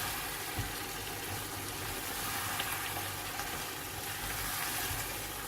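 Masala sizzling and frying in oil in a pot for chicken chickpea curry, a steady close hiss with soft crackle and bubbling that runs unbroken throughout, no talk.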